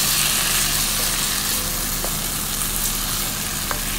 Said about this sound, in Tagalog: Haluin lamang po natin.